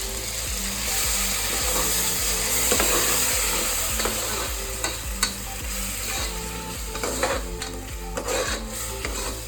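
Ground spice paste goes into softened tomatoes frying in a pan, with a steady sizzle and rhythmic scraping of a spatula stirring the mixture, close and continuous.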